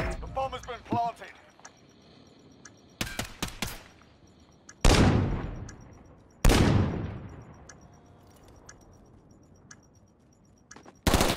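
First-person shooter gunfire arrives in a few sharp, loud shots spaced seconds apart, each followed by a decaying echo. Quieter stretches lie between the shots, and voices are heard at the start.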